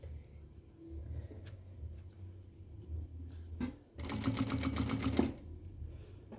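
A sewing machine stitches a quilted pouch made from a 13x18 quilt panel, running in one steady, close, rapid burst of about a second and a half after quiet handling noises.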